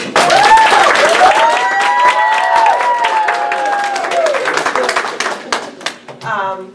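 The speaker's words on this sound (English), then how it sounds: "Now please give a warm applause and welcome for our assistant principal of the high school, Dr. Letitia." A large audience at a Black cultural celebration breaks into loud, sustained applause welcoming a high school assistant principal, a dense wash of clapping that stays strong for several seconds before thinning into scattered claps, with a brief voice near the end.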